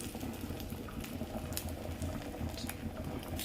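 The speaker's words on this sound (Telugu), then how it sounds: "ఒక సైడ్ ఆమ్లెట్, ఒక సైడ్ అన్నం ఉడుకుతుంది." Rice boiling in a pot on a home stove, a steady close bubbling and fizzing wash that runs without pause, with no talk.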